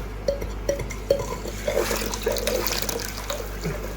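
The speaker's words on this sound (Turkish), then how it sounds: "Biraz daha su ekleyeceğim şimdi." Water poured into a bucket used as a temporary fish tank for a stingray, gurgling and trickling in a steady run of small splashes, close by with a faint background hum.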